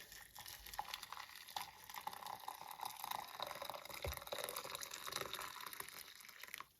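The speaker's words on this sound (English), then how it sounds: "I have my water. This is already boiled water" Already-boiled water poured for an herbal adaptogenic tea, a faint continuous liquid trickle and splash running steadily for several seconds at close range, with no talking.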